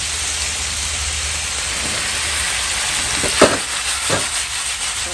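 Vegetables and chicken frying in a pan in a home kitchen make a broad, steady sizzle, with a few scraping stirs and a sharp clack midway, close and uninterrupted by speech.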